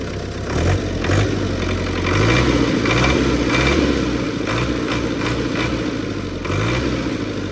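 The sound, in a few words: tractor engine idling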